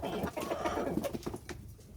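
Farm chickens cluck and coo in a dense, steady chatter of overlapping calls, fairly close and continuous with no talk.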